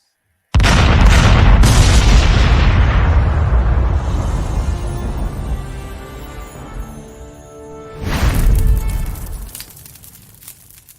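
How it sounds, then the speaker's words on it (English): A cannon fires with a single huge, close boom that rolls and decays for several seconds, followed by a second loud rumbling burst and fading echo, with no talk over it. "Then we're going to blow your minds by firing the cannon."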